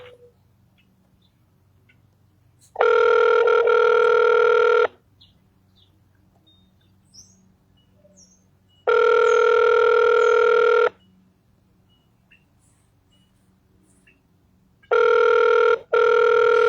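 Telephone ringback on a call to a library line, three loud electronic ring bursts of about two seconds each separated by long silent gaps, heard alone.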